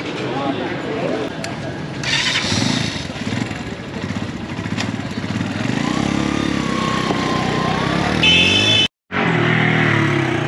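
A motorcycle engine runs and revs during a test ride after a bike's makeover, a loud steady rumble with rising and falling throttle, close by, and someone talks over it.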